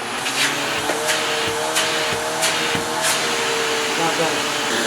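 Suction roar from a carpet cleaning machine pulling air through its hose, a steady loud whine with a few brief surges; a voice is heard speaking briefly.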